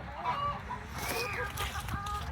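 Chickens clucking in a muddy chicken coop on a winter family farm in Indiana, a steady mix of close clucks and soft calls over constant low background noise, with faint voices.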